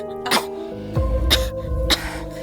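A sick man coughs three times in harsh, chesty bursts spaced about a second apart, close and loud over a steady background music bed.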